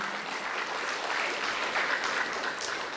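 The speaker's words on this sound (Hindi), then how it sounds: "तो इस बच्चे के लिए फिर ताली बजाइए।" An audience at a first birthday celebration claps steadily, a dense, even wash of many hands that holds at a constant level throughout with no talk over it.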